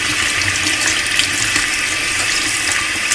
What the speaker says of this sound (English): So I'm going to go ahead and rinse it